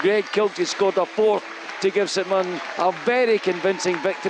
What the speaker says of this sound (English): You can hear the applause in the background for the players as they leave the pitch at the Smiza Stadium